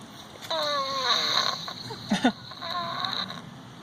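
A snake's loud, raspy breathing with a snore-like rattle, a few rough rhythmic breaths close up, with a brief louder wheezy burst partway through.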